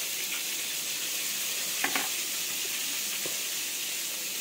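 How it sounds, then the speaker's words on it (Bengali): Potatoes and pointed gourd frying together in a pan, a continuous bright sizzle and hiss with a couple of brief stirring scrapes near the middle, no talking. "দিয়ে কিন্তু আলু পটল একসঙ্গে এভাবে ভাজা করে নেব সুন্দর করে"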